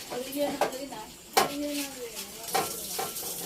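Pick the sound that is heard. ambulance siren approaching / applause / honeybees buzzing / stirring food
stirring food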